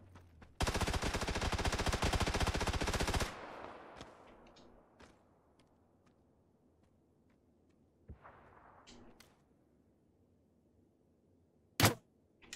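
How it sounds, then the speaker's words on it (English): Gunfire in a video game: a dense, loud burst of rapid automatic fire runs for about three seconds, then fades into scattered distant shots and clatter, with one sharp close shot near the end. "A lot of firing going on over here."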